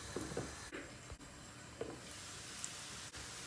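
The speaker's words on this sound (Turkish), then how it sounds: "Kabaklarımız kızarmaya başladı. Şöyle yakından da göstereyim. Tekrar kapatıyoruz. Ara ara karıştırmaya devam ediyoruz." Zucchini slices frying in a covered pan, a soft steady sizzle with occasional stirring knocks and a few brief clicks, quiet and continuous with no voices.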